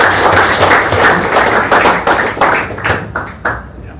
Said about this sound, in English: extra big round of applause to Rudie